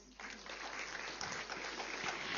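Applause from a large audience in a conference hall at a meditation leaders' gathering: dense, steady clapping that rises at the start and holds for the full stretch without any talk.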